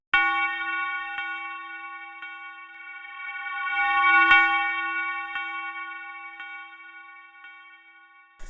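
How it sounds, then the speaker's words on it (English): A bell-like tone with shimmering reverb swells gradually, peaks, then fades: a reversed reverb tail used as a transition in a witch house beat. "I bounced the bell into audio and reversed the reverb tail to get this transition sound"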